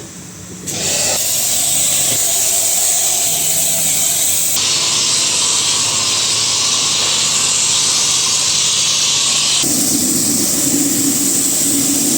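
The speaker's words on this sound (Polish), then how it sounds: "Turbo piana" A pressure washer sprays turbo foam on a Polonez Kombi car, a loud, continuous hissing spray that holds steady for about twelve seconds with slight shifts in tone.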